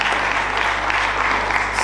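Audience clapping at a youth New Year's Eve worship gathering, steady dense applause filling the space for a short stretch, no voices over it.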